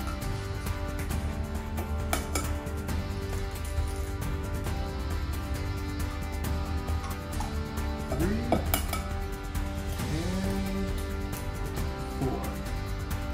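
Eggs cracked one after another into a bowl while making French toast custard, brief clinks and taps against the bowl amid ongoing kitchen clatter of dishes and utensils, steady low background hum throughout.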